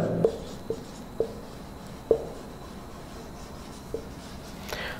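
A teacher writes an English grammar example by hand, producing a handful of short, quiet scratchy strokes spaced irregularly, with brief pauses between them and no talking.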